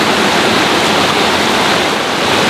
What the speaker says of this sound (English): It's flowing water, but it's coming off the main lake, so it's pretty warm.